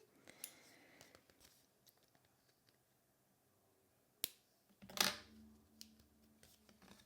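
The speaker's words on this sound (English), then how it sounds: "trim off the ends without cutting my card, preferably" The ends of paper are trimmed off a handmade holiday card, giving two or three crisp, isolated snips amid quiet, faint handling noise at a crafting table.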